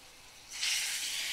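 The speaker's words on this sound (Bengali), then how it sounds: "আর এই দেখো আমি ছোট ছোট বড়ির মতন করে দিয়ে দিচ্ছি গরম তেলের মধ্যে" Small bora fritters dropped into hot oil over a low flame: a steady broadband hiss of frying swells up partway through and holds, close and fairly quiet, with no voices.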